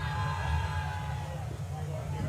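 Cricket crowd at a Yorkshire Vikings v Gloucestershire one-day match raising a loud appeal for leg before wicket, a steady roar of voices and shouts that swells and holds throughout.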